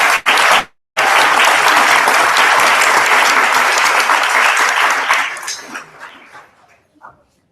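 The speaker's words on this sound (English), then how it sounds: "let's give them another round of applause" Loud, dense audience applause at a political candidacy announcement in Trumbull, Connecticut, sustained for several seconds after a brief cut, then tapering off into scattered claps and quiet.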